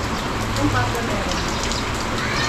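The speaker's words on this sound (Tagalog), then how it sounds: "Pero dito sa amin, walang tigil ang ulan." Heavy, steady storm rain pours without a break, a dense continuous hiss that fills the whole stretch, with a low hum running underneath.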